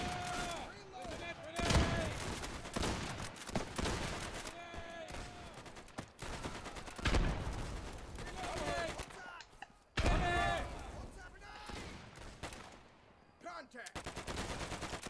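Gunfire in the video game Easy Red 2 arrives as repeated loud bursts and rapid automatic volleys with booming thuds and clattering echoes, the shots coming in waves with short lulls between them.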